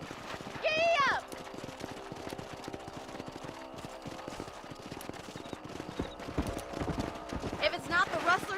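Horse hooves gallop in a steady clip-clop rhythm in the Red Dead Redemption video game, joined by short whinnies near the start and end, with voices talking over the hoofbeats.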